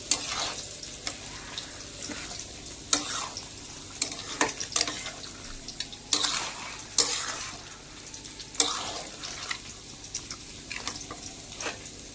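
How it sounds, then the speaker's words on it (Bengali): Meat being stirred with spices in a hot pan, a continuous sizzle broken by repeated scraping, clattering strokes of the utensil at irregular intervals, close up and without talking. "মাংসটা দিয়ে দিয়েছি, এবারে মশলার সঙ্গে একটু নাড়াচাড়া করে নিচ্ছি।"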